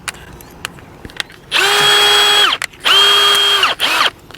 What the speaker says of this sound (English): There's our 6mm masonry drill bit. We're going to put that in our drill